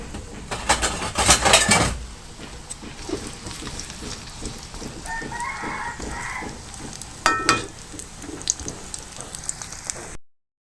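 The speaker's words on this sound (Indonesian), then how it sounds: "Sambil tempenya digoreng, kita bersihkan kangkungnya ya teman-teman ya." Tempeh sizzles and crackles in hot oil, a constant frying hiss with occasional louder bursts of spattering and clatter at the start and near the end.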